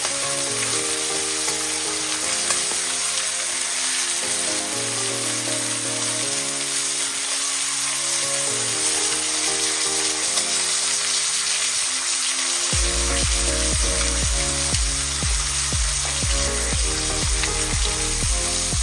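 Butter sizzling in a cast iron pan, a constant loud crackling hiss under background music that changes partway through, with no one speaking.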